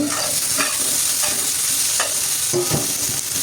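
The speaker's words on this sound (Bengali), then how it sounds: "এখন আলুগুলোও তুলে নিব হালকা ভেজে" Potato pieces frying lightly in oil in a pan for a home-style potato and meat curry give a steady, loud sizzle close by. Periodic stirring scrapes break through the sizzle, and no one talks.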